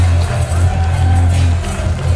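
A wrestling show crowd in Birmingham roars and cheers steadily, a dense, constant wash of voices from a packed hall, loud and unbroken throughout.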